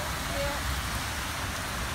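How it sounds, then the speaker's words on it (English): Heavy rain pours at night in Bogotá, a dense steady hiss of falling water and splashing with a low rumble beneath, continuous and close. "It's been raining for the past, how long?"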